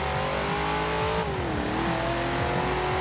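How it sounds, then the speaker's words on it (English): The engine of a stock 1969 Dodge Charger Daytona in Forza Horizon 4 revs high and steady, loud, pitch climbing and shifting between gears, with a synthetic, game-like quality. "Loud engine, revs nice and high."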